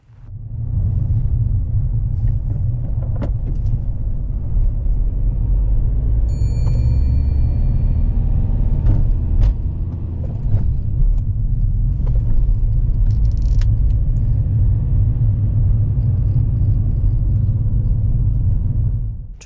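A car drives slowly along a narrow single-track road with no footpath, its steady low engine and tyre rumble continuous and close throughout, with a few faint clicks and rattles inside the cabin and no talking.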